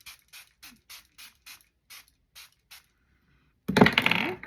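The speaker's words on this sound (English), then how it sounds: "So now I'm going to go in, I'm going to spray with this." A hyaluronic acid and aloe vera spray bottle gives about nine soft, evenly spaced pump clicks, then one loud, hissing burst of mist close by.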